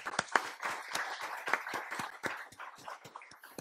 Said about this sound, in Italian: e magari anche con un applauso